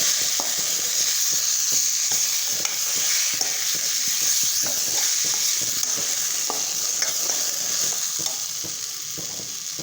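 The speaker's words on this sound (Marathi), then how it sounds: "त्याच्यामध्ये आता आपण पनीर टाकून घेऊ ते सर्व मिक्स करून घेऊ" Paneer sizzling in a hot pan with masala, with repeated scraping strokes of a spoon stirring, a steady hiss under rhythmic clacks, close and fairly loud.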